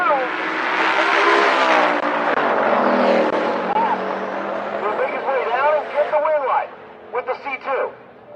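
Drag race cars launch down the track at Rocky Mountain Race Week, a 4th Gen Camaro in the right lane, engines roaring loud and sustained and then fading as they pull away, with an announcer talking over the noise.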